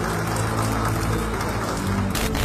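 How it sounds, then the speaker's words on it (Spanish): Applause in a legislative chamber for Segundo Tapia and Jenny Vilcatoma, a dense, steady patter of many hands clapping together throughout. "se oyen aplausos a Segundo Tapia y a Jenny Vilcatoma"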